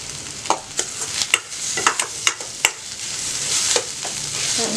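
Egg idli upma is stirred in a pan over low heat, with a spoon scraping in irregular strokes over a steady soft sizzle of frying.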